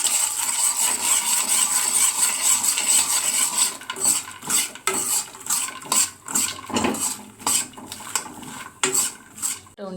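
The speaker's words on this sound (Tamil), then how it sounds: "இந்த ஸ்டேஜில் நம்ம வறுத்த மக்கானாவையும் சேர்த்துடலாம். சேர்த்துட்டு கலந்துக்க வேண்டியதுதான்." Roasted makhana being stirred into a chocolate mixture in a pan, with steady scraping and clinking of a spoon against metal, uneven rhythmic knocks and rattles, close and fairly loud.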